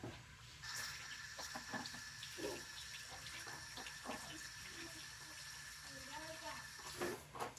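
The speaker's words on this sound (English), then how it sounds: "And I'm gonna wash my hands." Hands being washed under a running kitchen tap, a continuous splashing stream with small shifts as the hands move, while people talk faintly nearby.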